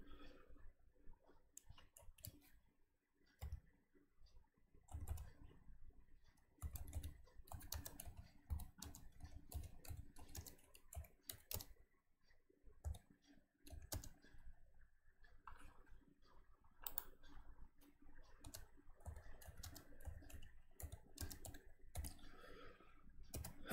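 Program code being typed on a computer keyboard, a quiet, close run of irregular key clicks and taps with brief pauses, no talking.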